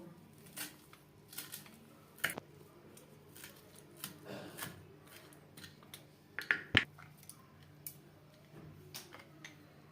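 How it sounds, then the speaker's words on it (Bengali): Coriander leaves being finely chopped, heard as quiet, irregular crisp snips and knife taps with a few sharper clicks, soft and close in a still room. "ধনে পাতা কুচি করে কেটে নেব"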